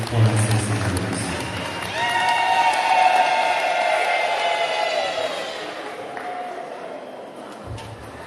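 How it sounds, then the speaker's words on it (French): A crowd in Ivembeni, Comoros, breaks into cheering and clapping to welcome La Courneuve mayor Gilles Poux, with whoops and raised voices swelling and then easing off over several seconds. "je vais vous demander de l'applaudir très fort"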